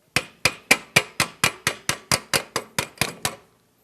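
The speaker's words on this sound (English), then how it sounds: "Little tap here because this gasket may be stuck." A stuck small-engine carburetor gasket being tapped loose during an engine overhaul: about thirteen sharp, evenly spaced knocks in quick succession, close and clear, with no talking.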